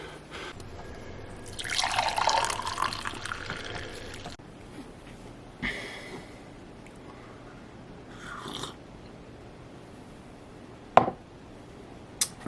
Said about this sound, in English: jump into the cold shower.